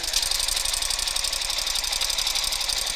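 Sewing machine stitching a strap, a fast, even, rapid mechanical chatter of the needle running continuously, close and fairly loud with no voice over it.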